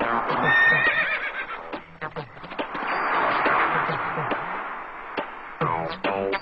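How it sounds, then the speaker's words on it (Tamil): A white horse neighs loudly and close by, with several whinnies and snorts spread through the stretch, mixed with voices. "அந்த வெள்ளை குதிரை இங்கதான் இருக்கு."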